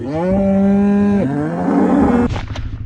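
Cattle in a field on a farm with weaned calves give one long, loud, close moo that drops in pitch partway through and then breaks off. No one speaks.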